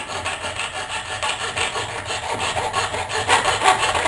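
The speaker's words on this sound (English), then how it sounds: "I'm only sawing in the place where I can see" Hand saw cutting through wood in quick, steady back-and-forth strokes, a close raspy scraping throughout.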